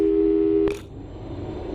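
Telephone busy signal from the Portal 2 video game: a loud, steady electronic tone that cuts off abruptly with a click partway through, leaving a faint low hum behind.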